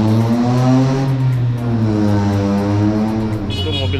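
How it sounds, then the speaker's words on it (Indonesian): A loud car engine drones close by with a steady, slowly shifting pitch, rising slightly at times, with faint higher noise near the end and no clear talking. "itu mobil suaranya kenceng"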